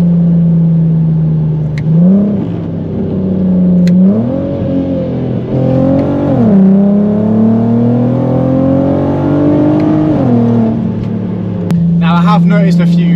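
Audi Mk1 TT with the 3.2 V6 engine revs hard on a downshift, its note swelling and dropping in several close, loud sweeps with engine drone throughout.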